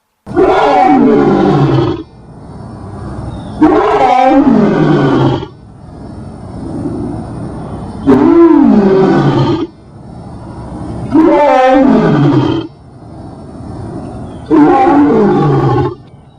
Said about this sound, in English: The lion's majestic roar was designed by Ya'o, and the lion's roar produces the pronunciation of his holy name.